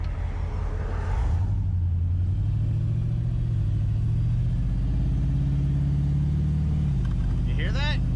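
An LS-swapped vehicle being driven, its engine a steady low rumble that rises in pitch as it pulls, with the note holding up under the cabin noise through most of the drive.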